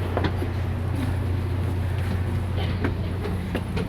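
Inside a three-level commuter train running from Seattle to Tacoma, a steady low rumble and rolling wheel noise carry through the carriage, with faint clicks and rattles over the track.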